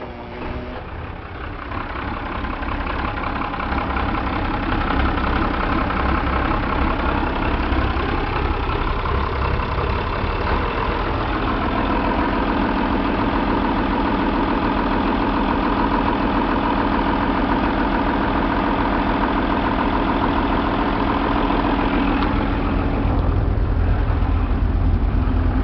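Hino diesel engines on a Bayliner 3870 motoryacht idle with a steady, continuous rumble, loud and close throughout, holding an even low drone with no voices over it.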